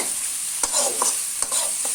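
Pigeon meat being stirred and fried in a pan, close sizzling with a few scraping spoon strokes against the pan.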